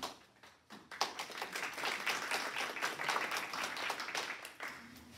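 Audience clapping at a community gardening talk on DIY landscaping design, starting with a few scattered claps and swelling into steady applause that fades slightly near the end.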